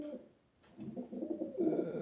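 Pigeons kept for sale coo softly nearby, a low throaty burbling that swells and continues, with faint background noise and no talk.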